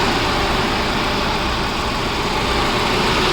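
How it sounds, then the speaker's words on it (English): The engine of a 2017 Mahindra Thar 4x4 idles close by with the AC running, giving a loud, steady, dense rumble that holds without change throughout, with no voices over it. "So right now this is the engine sound on this vehicle."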